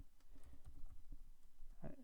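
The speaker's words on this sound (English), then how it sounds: "I'm typing in a very awkward way here." Typing on a computer keyboard during database work, a quick irregular run of soft key clicks close by, with a slightly heavier tap near the end.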